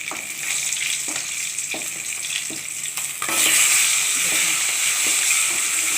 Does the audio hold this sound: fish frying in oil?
yes